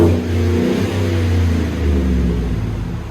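Chevy/GMC 6.6L V8 truck with a clean-toned street exhaust revving up, a deep steady rumble holding loud and close throughout with no talking.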